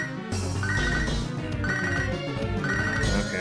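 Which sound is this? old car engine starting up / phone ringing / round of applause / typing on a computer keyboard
phone ringing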